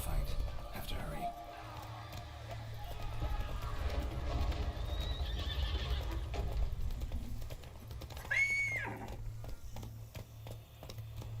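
Geralt's horse Roach galloping in The Witcher 3, a steady rapid clip-clop of hooves under the game's ambient sound, with someone speaking quietly and a brief whinny-like cry near the end.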